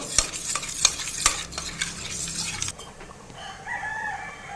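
Roadside-style idli sambar being stirred in a pot as it comes to a boil: a few sharp scraping clinks of the ladle over bubbling and sizzling, then quieter simmering with a faint background tone.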